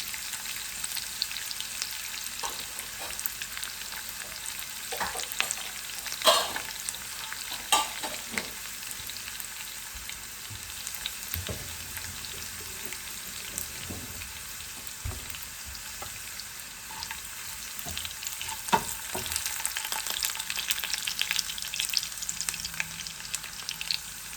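Hot oil sizzles and crackles continuously as green chillies fry, with occasional stirring clinks and scrapes nearby, no voices.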